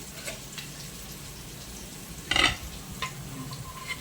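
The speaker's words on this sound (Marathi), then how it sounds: "आता मावशी टाकत आहे टमाटा." Tomato drops into a pan of oil, rice and fried peanuts for masale bhat, a low steady sizzle broken by one loud burst of spattering and a few lighter ticks of stirring afterward.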